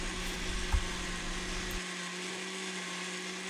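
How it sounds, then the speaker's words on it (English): A kitchen blender whirs steadily while blending condensed milk ingredients, a constant near motor hum that drops to a lighter, thinner tone about halfway through. "Just get it going in the blender for a good minute or two"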